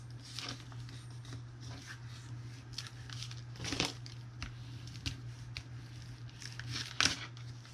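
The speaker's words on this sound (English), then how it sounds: "I am going to take these and fold them into thirds" Pieces of paper are folded into thirds for homemade notepads, with soft, close crinkling and creasing in scattered bursts and a few sharper crisp folds over a quiet steady hum.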